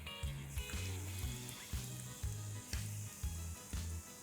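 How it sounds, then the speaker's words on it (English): Pakora batter blobs drop into hot oil with a faint steady sizzle, joined by a regular thumping beat of background music. "Time to fry our Sanna Pakoras. I'm going to drop in big blobs of the batter."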